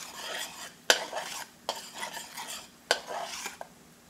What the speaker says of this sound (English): Give those a quick little stir.